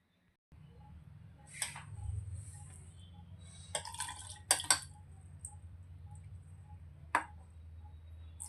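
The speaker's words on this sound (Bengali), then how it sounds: "এবার কমলা লেবুর রস ঢেলে দিচ্ছি, ধীরে ধীরে ঢালছি যাতে নিচের লেয়ারগুলো নষ্ট না হয়" Orange juice is poured slowly into a layered strawberry, orange and chia drink in a glass, making a quiet trickle with a few light glassy clinks and drips in near silence.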